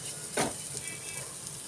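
Green chillies frying in oil for a tempering for mango appehuli, a brief close sizzle with a quick stirring scrape over a steady hiss.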